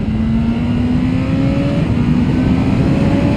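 A BMW S1000RR motorcycle engine roars steadily and loudly up close, its pitch slowly climbing as it revs, with a dense rumble throughout.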